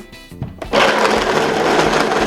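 A countertop blender crushing ice for a frozen cocktail kicks on after a few clunks and then runs with a loud, steady grinding whir.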